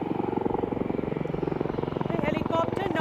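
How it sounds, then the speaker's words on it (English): A military helicopter with a narrow fuselage and digital camouflage flies sideways parallel to the runway at an Aero India air show, its steady rotor chop loud and continuous throughout. "The helicopter now performs some sideward movement parallel to the runway."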